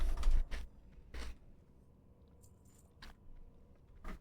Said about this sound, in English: You hear crunching sounds. Sorry, I was eating crisps.